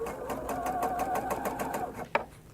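A sewing machine runs steadily while stitching a seam on a wrap dress, a fast regular needle rhythm close by, ending with a brief sharp click near the end.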